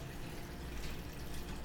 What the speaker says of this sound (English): Then we fill it up to the top of water.